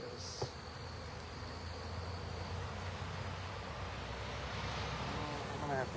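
A honeybee drone buzzes during a hive check, a steady droning hum that stays close and continuous amid outdoor background noise.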